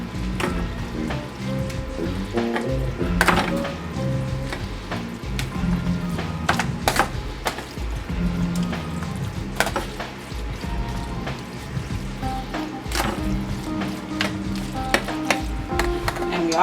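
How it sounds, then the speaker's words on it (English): Meatloaf ingredients being mixed in a bowl, giving steady wet stirring and squelching with occasional sharp knocks, close and continuous throughout. "Mix that."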